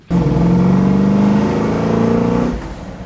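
Fully restored 1977 Ford Bronco engine pulling under acceleration while driving, a close, loud, steady drone with a rising tone that holds for about two and a half seconds before easing off.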